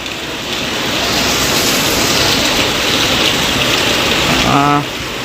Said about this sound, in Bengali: বলা চলে স্বস্তির বৃষ্টি